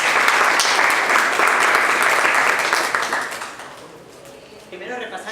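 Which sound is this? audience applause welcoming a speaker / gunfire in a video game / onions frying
audience applause welcoming a speaker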